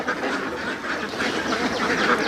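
A dense flock of ducks at a commercial duck farm quacks continuously, many birds calling over one another in a steady, loud chorus with no talking.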